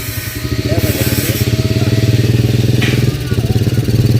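A 100cc Rusi motorcycle engine, fitted in place of the original electric drive on a converted Kuda, idles steadily close by with a fast, even chug. It runs continuously and loudly throughout.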